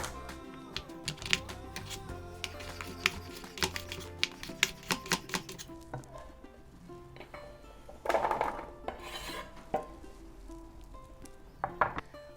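A knife slices small sweet potatoes lengthwise on a cutting board, giving sharp, irregular taps and clicks with a brief scraping burst partway through, close and fairly quiet.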